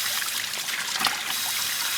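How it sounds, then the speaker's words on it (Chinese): Steady trickle of water running in a basin while fresh white radishes are washed by hand, a continuous close splashing flow with a brief louder splash midway. "萝卜洗干净，先洗一下，把这萝卜洗干净了"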